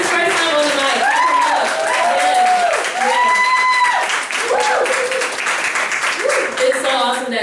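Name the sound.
audience applause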